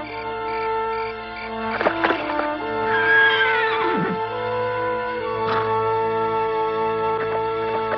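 A cartoon horse whinnies loudly over a sustained musical backdrop, with a few sharp hoof-like knocks scattered across the scene.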